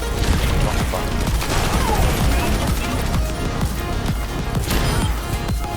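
Continuous dense gunfire and explosions from an online shooter match fill the whole stretch loudly, a crackling barrage of bursts with no pauses.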